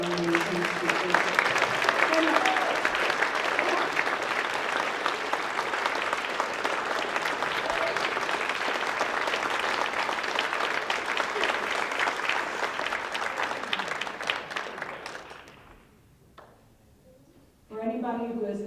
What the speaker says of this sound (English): Can we have a round of applause for all of our amazing speakers?